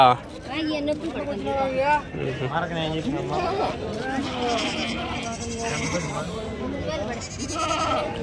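Goats at a busy livestock market in Angallu before Eid, bleating repeatedly and loudly up close, their cries overlapping with crowd chatter and people talking nearby.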